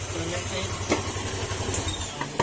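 A steady car engine idles with a low rumble and a faint rattling whine from a noisy water pump over it, plus a few small clicks, with no talking.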